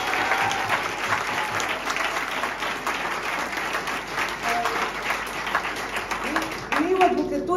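An audience at an annual feminist award event gives a sustained round of dense applause, even and full, that carries on throughout. A voice begins to speak near the end.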